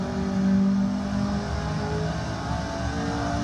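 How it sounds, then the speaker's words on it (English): Engine of a Lotus 49 race car in a VR racing game, a steady droning rev with a brief louder swell, heard alone. "this car here is the Lotus 49"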